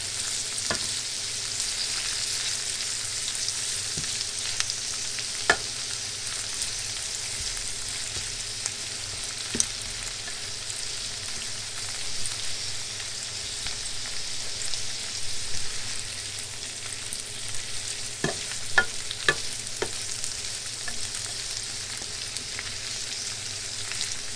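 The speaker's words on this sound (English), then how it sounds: "I'll stir them around for about a minute or so." Green beans with garlic and bacon sizzle steadily in a frying pan while being stirred, with occasional light clicks and taps of a utensil over the continuous hiss and no talk.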